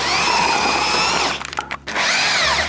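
An electric drill drives an old Soviet hand meat grinder through a flexible coupling, whining loudly and steadily, briefly stuttering and dropping out before spinning up again.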